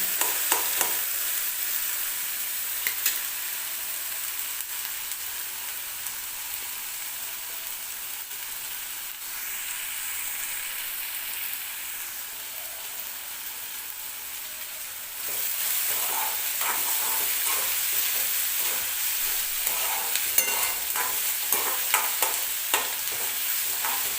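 Chopped onion frying in a pan for an onion and tomato chutney, a steady close sizzle with stirring scrapes that grow busier in the later half, and no one speaking.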